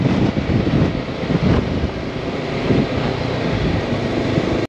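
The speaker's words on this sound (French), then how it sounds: "Le vent se lève vraiment pas mal là. Oh là là. Ça souffle." Strong wind gusts across open ground in Ireland, buffeting the microphone with a loud, continuous low roar that rises and falls slightly without any voices.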